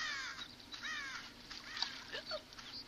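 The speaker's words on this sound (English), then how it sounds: "Feck off, crows." Crows in the video game Conker's Bad Fur Day give a string of scratchy caws over a faint steady background hum. The calls are soft and repeat irregularly across the stretch.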